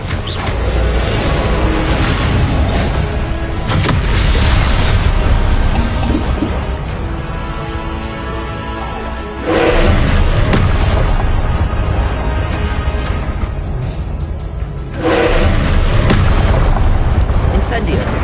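Fiery blasts from the Confringo spell in the Hogwarts Legacy video game go off loudly in a dense, continuous battle mix, with strong booming bursts around the middle and again near the end.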